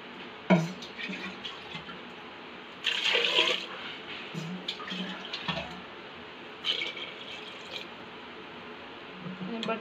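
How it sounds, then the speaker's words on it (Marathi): Water is poured over potatoes to wash them, giving soft splashing and trickling bursts with a few drips and clinks between them, fairly quiet and close. "पाणी ओतून घेऊया"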